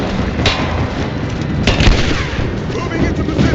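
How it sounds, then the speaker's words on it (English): Gunfire in the video game Rise of the Tomb Raider: dense, continuous bursts of shots and booming blasts, fairly loud and with sharper cracks near the half-second and around 1.7 to 1.9 seconds. "We've got shot fire!"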